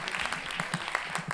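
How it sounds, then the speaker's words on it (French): A slam poetry tournament audience in Lyon breaks into a brief burst of applause, dense overlapping claps heard close for about a second and a half. "On applaudit Zlatko Gamic, s'il vous plaît"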